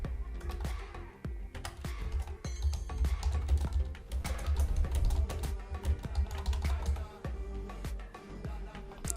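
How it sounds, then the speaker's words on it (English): Rapid clicking of a computer keyboard while entering heading text in a WordPress page editor, with close, irregular keystrokes in quick bursts and brief pauses. "typing my text here"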